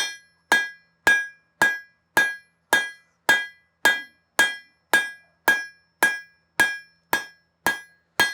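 Hammer blows ring out in a steady rhythm, about fifteen evenly spaced bright metallic strikes, as a dagger blade is rough forged on an anvil in a blacksmith shop. Each hit is loud and close with a short decay, and no one talks.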